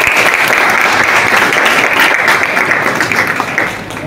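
A school audience claps steadily and loudly throughout, a thick continuous wash of many hands with no talk over it, easing a little near the close.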